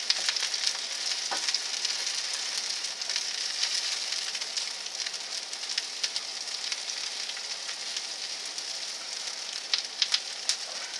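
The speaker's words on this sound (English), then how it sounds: "There's a lot of heft to potato pancakes, so you really got to let them cook pretty good." Homemade German potato pancakes sizzle in a pan with a steady, close hiss of frying oil and occasional crackles, no voices.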